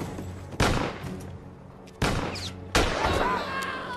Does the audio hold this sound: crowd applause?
no